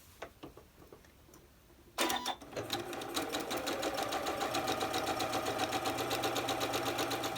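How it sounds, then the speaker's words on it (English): A sewing machine stitches a quarter-inch seam along the edge of a quilt block. Quiet handling comes first, then about two seconds in the motor starts and runs as a steady, close, rapid mechanical whir with a fast ticking pulse until the end. "we're going to sew down this edge with our 1/4 inch seam"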